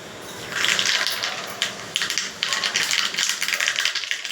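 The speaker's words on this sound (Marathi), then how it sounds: "त्याच्यात राई टाकते" Mustard seeds crackle and spatter in a small tempering pan of hot oil, a dense run of sharp pops and splutters that starts abruptly and stays loud and close.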